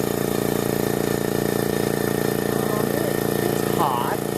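A Makita MAC700 big-bore 2.0 HP air compressor runs steadily up to pressure with a constant droning motor hum and buzzing tone. A faint voice surfaces briefly near the end.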